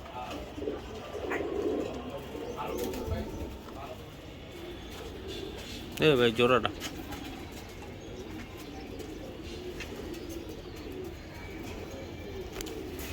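Giribaz racing pigeons coo softly and repeatedly in a loft, with someone talking over them throughout and a brief louder rustle near the middle.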